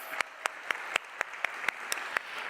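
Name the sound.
audience applauding family members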